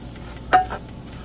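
Rice sizzles in hot oil in a pan while it browns, with a brief scraping stir in the middle over a faint steady crackle.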